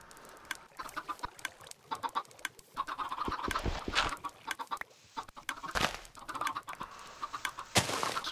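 Several Minecraft chickens in a modpack world cluck steadily over about eight seconds, overlapping calls in irregular bursts with a few louder flaps or pops, close and busy, no voices.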